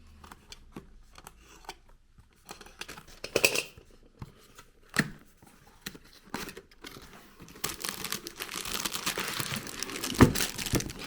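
An Amazon package shipped from abroad is opened up close, with intermittent crinkling of plastic, tearing and cutting sounds, growing into continuous rustling and crumpling toward the end, with no talk.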